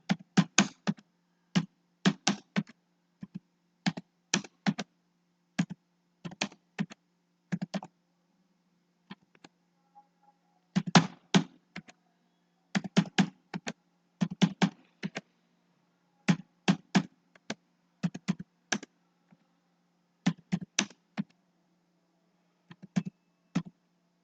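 Clicky bursts of typing on a computer keyboard while entering a rate into a Microsoft Excel bill sheet, fast clusters of keystrokes separated by short pauses, close and clear with no talking.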